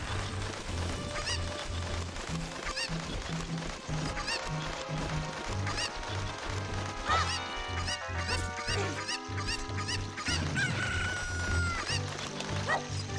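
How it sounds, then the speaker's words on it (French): Chicken clucking in the video game The Legend of Zelda: Ocarina of Time, short squawks and honking calls over a busy game music track with a steady rhythmic beat, no voices heard. "Va me choper cette poule."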